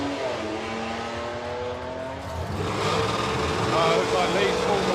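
Drag race cars launching at a festival of power event: a steady engine drone with a rising harmonic whine swells into louder revving as the cars pull away, with an announcer's voice over it.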